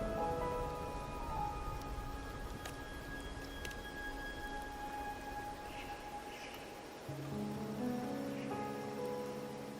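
Steady rain falls in the video game Wuthering Waves, a continuous soft hiss under faint tonal game music, with no voices.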